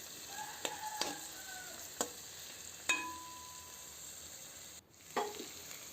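Sliced onions fry in hot oil for chicken biryani, giving a steady close sizzle punctuated by a few sharp clicks and scrapes of a stirring spoon against the pan.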